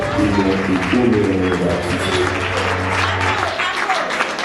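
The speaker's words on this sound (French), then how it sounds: "Est-ce qu'on peut bien applaudir pour la rencontre de mesdames et messieurs?" Audience applause at an awards ceremony in a hotel hall, a dense steady clatter of many hands lasting throughout, with a voice and some tonal sound running underneath in the first part.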